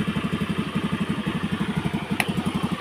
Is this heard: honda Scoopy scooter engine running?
yes